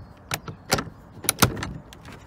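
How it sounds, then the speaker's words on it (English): A greenhouse door being shut, a few sharp clunks and rattles spread over a couple of seconds as the frame swings and latches, close by with no talk. "Let's just shut this door."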